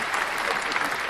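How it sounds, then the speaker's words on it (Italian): Applause from a small live audience in a local talk show studio, a dense, even patter of clapping heard at close range for a brief stretch. "mandite un applauso da solo"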